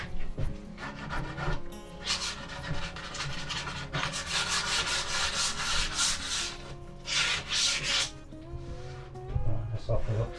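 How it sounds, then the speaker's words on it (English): Sandpaper rubs back and forth along a wooden edge while a kitchen is fitted into a narrowboat, producing steady, close, scratchy strokes that continue throughout, with brief pauses between passes. "Bit of sandpaper there just to take the edge off."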